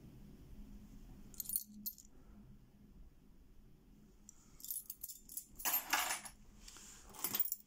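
Berg Victor padlock keys jangle and clink in handling, with a couple of brief metallic rattles early on, then a busier, louder flurry of key clatter toward the end, close up and without speech.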